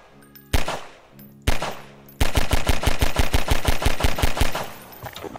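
Gunfire in Garry's Mod: two separate loud single shots, then a sustained rapid burst of automatic fire with evenly spaced cracks lasting about three seconds before tapering off, no talking.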